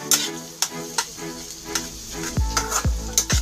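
Four eggs fry in a pan for a bacon-and-egg meal, a steady close sizzle punctuated by regular scraping strokes and sharp clicks of a utensil against the pan.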